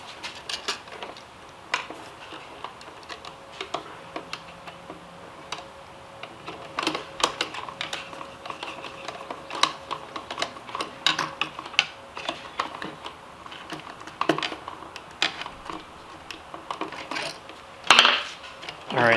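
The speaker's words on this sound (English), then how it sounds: "So let me cut a ground pigtail and put that on real quick." Wire cutters snipping and twisting a ground wire pigtail during electrical work inside a van: a long run of small metallic clicks, snips and taps, irregular and close, with a sharper clack near the end and no talk.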